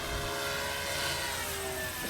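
Dynam RC model warplanes such as a P-51, Spitfire or T-28 flying overhead, giving a steady, continuous engine and propeller whine that stays at an even, moderate level throughout, with no talking.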